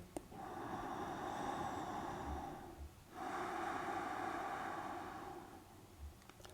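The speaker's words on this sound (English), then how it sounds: "Taking some deep breaths here." Slow, deep breaths drawn in and let out during a yoga pose, a long steady inhale-exhale with a brief pause between, close and fairly quiet with no talking.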